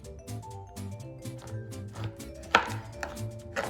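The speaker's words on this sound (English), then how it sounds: "So I'm just cutting up those chocolate chips." A knife chops chocolate chips on a board for chocolate peanut butter scones, giving steady, close rhythmic thuds with one sharper crack partway through, while music plays softly underneath.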